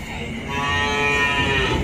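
Cattle at a cattle farm in Trà Vinh, Vietnam, give a long, loud, close moo that swells and holds steady over a rough background of barn noise.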